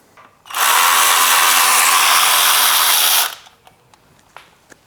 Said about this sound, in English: Now we just need to remove that bolt.